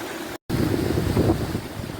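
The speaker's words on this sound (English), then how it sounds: "an awful lot of water pouring down" Heavy flow of water pouring down a waterfall on Dean Clough, a moorland stream in the Peak District, a steady broadband rush that stays loud and close after a brief dropout near the start.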